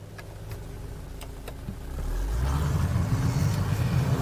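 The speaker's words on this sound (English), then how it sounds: "press the starter and you're greeted with a gratifyingly emotive soundtrack, or at least you will be in the V6 powered flagship model we're trying here" A Maserati Grecale's V6 engine starts, its note swelling into a loud, steady idle rumble after a short quiet stretch of faint mechanical ticks.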